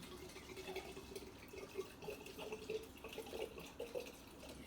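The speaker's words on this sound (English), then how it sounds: "you're going to take the Chianti and you're just going to top off with that." Chianti red wine is poured to top off a pitcher of sangria, making a steady, faint liquid trickle and gurgle that runs for several seconds with no talking.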